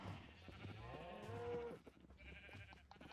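A sheep in the Minecraft video game lets out a single drawn-out, wavering bleat, faint and soft over quiet game ambience, followed by scattered small clicks.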